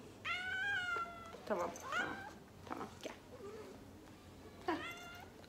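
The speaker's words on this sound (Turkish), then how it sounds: "Ben bu kediyi zapt edemiyorum." A woken-up cat meows several times, long drawn harmonic cries near and fairly loud, with someone talking softly between the calls.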